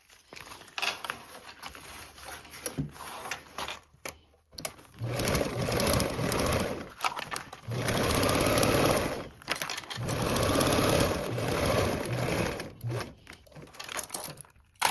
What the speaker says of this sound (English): Now you'll want to baste around the perimeter and top stitch those 2 joined seams